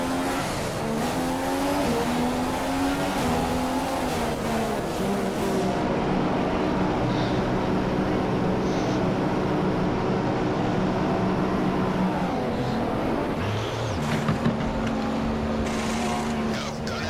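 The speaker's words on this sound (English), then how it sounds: "We're gonna enter the pit stop for a set of option tires. So let's see how is the pit stop from the Ferrari guys." A Ferrari Formula One car in the F1 2015 video game idling and rolling through a pit stop in Spain, its engine droning in a steady pitched whine that dips and rises as it slows and pulls away, loud and continuous.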